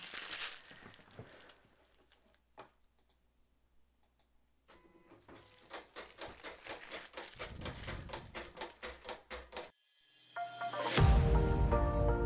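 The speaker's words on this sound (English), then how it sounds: "send this to cut using the auto blade" A Silhouette Cameo cutting machine running its auto blade, giving rapid mechanical ticking and clattering bursts with a quiet pause, then a louder whirring carriage movement near the end.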